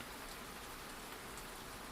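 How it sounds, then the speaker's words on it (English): Soft rain falls steadily in a quiet outdoor setting, making a continuous, even hiss of drops with no other sounds and no voices. "The rain played a quiet lullaby on ferns, on fallen logs, on the leather strap of his bag."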